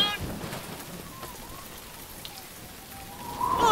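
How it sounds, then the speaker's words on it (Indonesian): A cartoon rain effect makes a soft, steady patter of falling rain that runs evenly throughout and swells a little louder at the very end. "Bunyi pertama, hujan."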